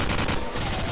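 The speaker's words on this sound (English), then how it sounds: "I'm just shooting." Dense, continuous gunfire from a first-person shooter in Garry's Mod, rapid overlapping shots filling the whole moment loudly with no break.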